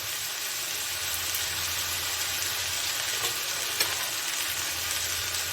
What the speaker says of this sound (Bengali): তেলের মধ্যে ভাজা হচ্ছে